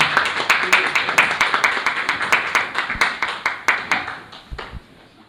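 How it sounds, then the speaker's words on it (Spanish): Audience applause welcomes a speaker at a lecture inauguration, a close, loud burst of hand clapping with a few sharp distinct claps on top, gradually fading out over five seconds. "Recibámoslo con un fuerte aplauso."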